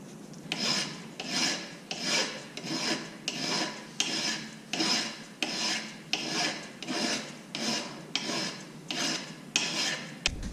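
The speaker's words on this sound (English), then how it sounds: "We're going to take them over here and start filing on them, get them right down to the right shape by our brass pattern that we have." Hand file rasping over rough-cut metal spur blanks, shaped against a brass pattern: about a dozen steady, rhythmic strokes, close and clear, with no voices.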